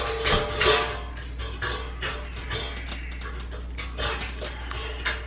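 A dog eats from a bowl at home, giving a run of close, irregular clinks and scrapes against the dish along with chewing, steady through the clip over a low constant hum.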